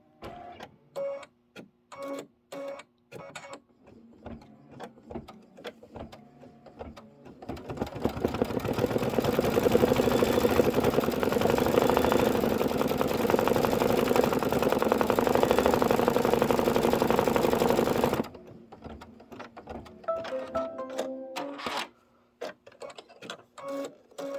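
An embroidery machine stitches a spring pennant in one long, steady, rattling run of close needle strokes, preceded and followed by scattered clicks and taps.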